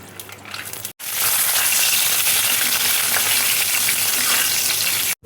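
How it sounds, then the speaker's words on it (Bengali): Peanuts hit hot oil in a wok and break into a loud, steady sizzle that fills the rest of the clip, with a softer sound before the oil flares up. "কড়াইয়ে দেখো আরেকটু আমি তেল দিয়েছি। এবার বাদামটা দেখো ভেজে নেব।"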